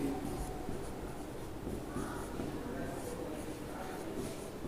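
Chalk or marker writes fractions on a board during a Hindi-language class, producing a continuous soft scratching texture throughout, fairly quiet and steady.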